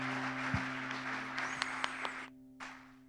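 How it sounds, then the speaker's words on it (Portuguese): A congregation claps during a church worship service, a dense patter of applause over a sustained keyboard chord that cuts off abruptly, followed by a brief resumption of faint noise. "Você pode aplaudir o Senhor"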